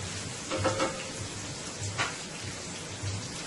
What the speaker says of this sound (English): Right now I just want to get my sausage started. So I'm going to let this saute for about a minute and a half.